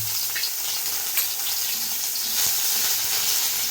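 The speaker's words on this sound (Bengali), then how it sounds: "এই আদা বাটাটা দিয়ে দেবো।" Ginger paste drops into hot oil in a pan for a vegetable dalia rice dish, producing a moderate, crackling sizzle with uneven spits and pops throughout.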